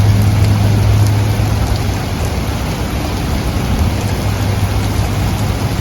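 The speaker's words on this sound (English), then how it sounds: "So it's just a lot of rain now." Heavy rain pours down without a break during a severe New Jersey thunderstorm, a loud, dense hiss of drops hitting surfaces close by.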